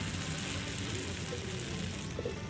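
Kanom krok batter, topped with boiled corn, sizzles steadily as it is dropped into a hot dimpled pan, a close, continuous frying crackle with no voices.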